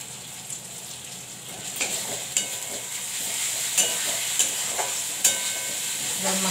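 Nimona, a ground pea mixture, frying in a pan with spices, giving a steady bright sizzle with spatula scrapes and clicks that come every second or so. There is no talk.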